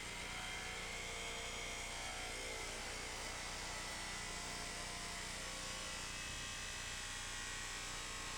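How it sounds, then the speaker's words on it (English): A power tool cuts through a car's plastic side pillar post trim during a top installation, giving a loud, steady, high buzzing whine that runs without a break from start to finish. "Notice we are cutting through the side pillar post trim"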